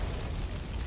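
A fire explosion in the video game Far Cry 5, a dense low rumbling blast that fills the whole second with a loud, sustained roar.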